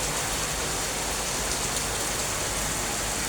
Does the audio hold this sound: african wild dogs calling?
no